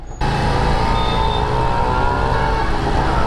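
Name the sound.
Harley Davidson motorcycle engine while riding in traffic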